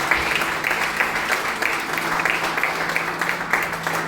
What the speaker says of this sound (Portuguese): Uma forte salva de palmas para o Senhor